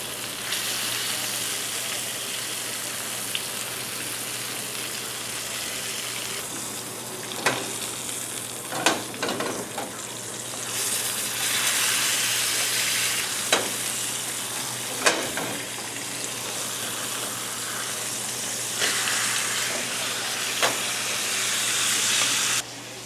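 Costco wagyu steak sizzles and fries steadily on a hot cooking surface, a continuous loud hiss broken by occasional sharper pops and crackles, with no talking.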